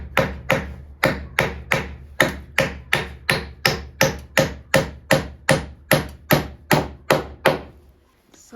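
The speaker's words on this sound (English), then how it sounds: "So now we have the old-fashioned hammer and nail." Sharp, evenly spaced hammer blows strike a nail, about sixteen loud close knocks in a steady rhythm, then stop.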